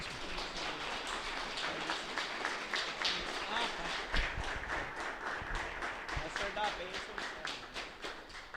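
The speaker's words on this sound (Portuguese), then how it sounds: "uma salva de palmas ao candidato" Audience at a Brazilian parish candidate hearing giving a round of applause to the candidate, a steady, even patter of many hands clapping, moderately distant and continuous from start to finish.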